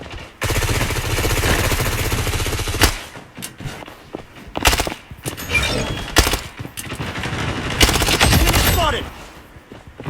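Gunfire in the shooter game Blood Strike: a long sustained automatic burst, then scattered single shots and short volleys with impact clatter, loud and close, with a voice talking over the action.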